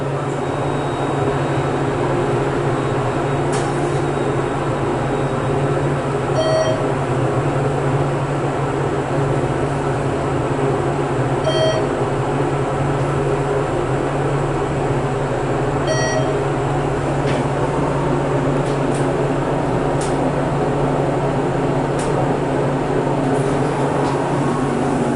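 Steady whirring hum of a fan inside a ThyssenKrupp Endura MRL hydraulic elevator car, continuous and fairly loud throughout, with a few faint electronic beeps at intervals and no talking.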